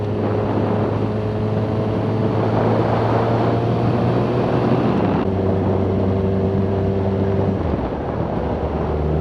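A Yamaha FZ6R motorcycle being ridden on a road gives off a steady loud engine drone with sustained tonal hum that shifts pitch midway, close and continuous, with no voices.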